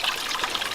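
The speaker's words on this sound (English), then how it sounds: "We're getting a lot of splatter from the waterfall." Water splatters from a leaking garden pond waterfall whose rocks and stones have been pulled back, a close, continuous splashing trickle at a steady level throughout.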